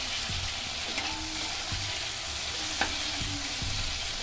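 Chopped tomatoes dropped into hot oil already tempered with black cumin for a bata fish curry: a loud, continuous close sizzle with occasional scrapes and knocks of stirring.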